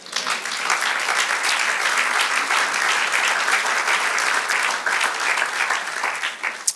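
Steady applause from a church congregation during a sermon, dense and sustained from start to finish at full volume, with no voices breaking through.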